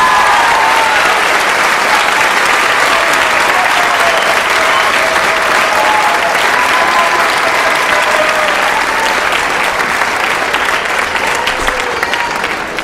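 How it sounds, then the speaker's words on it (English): A final round of loud, sustained crowd applause for honors students at a middle school eighth grade recognition ceremony, continuous and even, with a few faint voices mixed in. "one final round of applause for our distinguished honors students"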